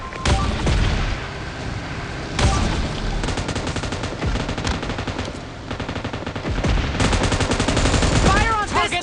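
Rapid automatic gunfire from the mobile battle royale game PUBG Mobile, dense bursts of loud shots with booming impacts layered over one another, continuous and close for several seconds.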